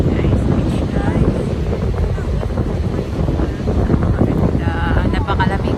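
Cold wind gusting at Maroubra beach in Sydney, Australia, a steady loud rush buffeting the microphone with surf noise beneath, while a couple talks intermittently over it.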